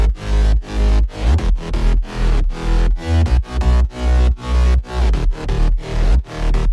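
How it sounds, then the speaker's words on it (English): Synth basses layered with a deep sub bass for a progressive house track, played together as a loud, steady pulsing pattern of rhythmic notes with sidechain-style dips, no voices. "Then under that, we have our basses as well as the sub bass"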